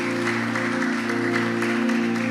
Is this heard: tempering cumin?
no